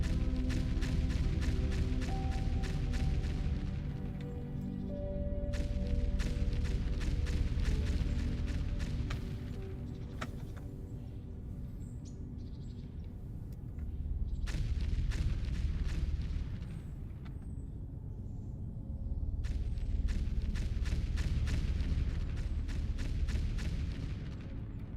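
Sustained roaring laser mining in the video game Foundry, a loud rumbling blast that surges and eases in several waves, boring in, pulling back and pushing in again.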